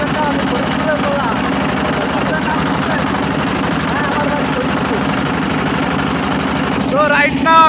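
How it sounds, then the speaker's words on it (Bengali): A small boat's engine throbs steadily nearby as it drives along, a low knocking chug, with someone talking over it throughout. "তো রাইট নাও আমি বোট চালাচ্ছি"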